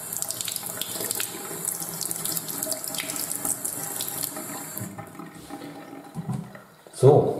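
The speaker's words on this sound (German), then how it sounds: "Dazu haltet ihr die Brille einfach unter warmes Wasser." Warm water runs from a tap in a steady splashing stream as eyeglasses are held under it, fading toward the end before a brief louder splash or clunk.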